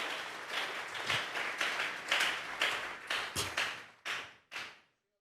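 A church congregation claps hands together as an offering of praise, a steady roll of loud applause that breaks into a few final separate claps before falling silent.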